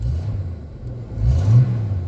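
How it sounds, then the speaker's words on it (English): Ford Mustang engine revving, a low, close rumble that swells in a quick rev near the end before settling back to idle. "there's no hesitation to revving it"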